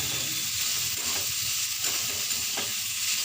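Bitter gourd being stir-fried in a pan with little oil, a constant close sizzle with soft hissing and occasional faint scraping of a spoon, no voices.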